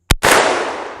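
A Henry lever-action rifle chambered in .44 Magnum fires outdoors: one very loud, sharp report that booms and rolls away, preceded by a brief click and followed by another quick mechanical click.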